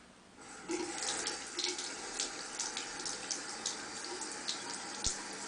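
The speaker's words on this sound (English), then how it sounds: "Wet it a bit more so it gets more of a lather going, and you will see that the dirty water just runs off." Running tap water splashes steadily into a sink, with small bursts and drips as a makeup brush is rinsed under the stream.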